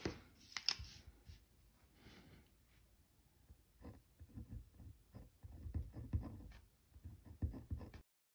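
Pen writing across planner pages, soft scratchy strokes with light paper rustles and page handling, close and quiet with no talk.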